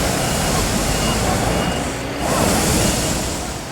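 A truck in Egypt with a balloon tied to it reverses with beeping under a continuous loud, broadband roar of engine and wind noise.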